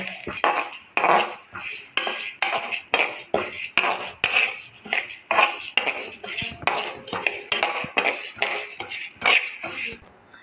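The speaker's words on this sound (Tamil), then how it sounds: "வெறும் இலுப்பச்சட்டியில் பார்த்திங்கன்னா உளுந்தப்பருப்பு வறுக்கணும்." Urad dal being dry-roasted in a bare iron pan, a spoon scraping and clinking against the metal in quick, regular strokes, close and fairly loud, with dry rattling of lentils between strokes and no talking.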